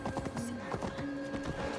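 Horse hooves clip-clop at a steady trot while riding through a town in Assassin's Creed Valhalla, the rhythmic beats close and mid-loud over a constant game ambience.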